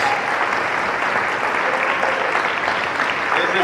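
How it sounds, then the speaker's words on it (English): Audience applause at a 60th jubilee keynote celebration, a dense, steady wash of many hands clapping close and loud throughout, with no speech over it. "This is your applause"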